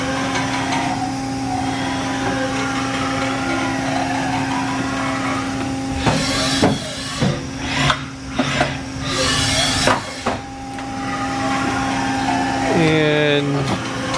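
A 1999 Haas TL-15 CNC lathe with a 23.5-inch swing jogs its axes, giving a steady machine hum with servo whines that rise and fall, clunks and rattles around the middle, and a voice speaking over part of it.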